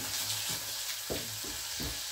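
Chopped onions frying in a pan while being stirred for a dried-fish (shutki) curry, a steady sizzle with a few scraping stir strokes, close and alone.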